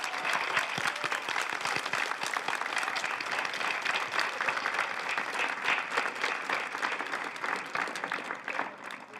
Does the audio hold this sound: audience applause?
yes